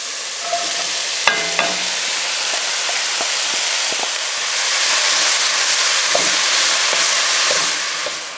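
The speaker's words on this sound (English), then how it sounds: "Now I'm going to add the carrots and the celery." Carrots and celery go into a pot of sautéing onions for beet soup, a steady loud sizzle with occasional clinks and scraping stirs.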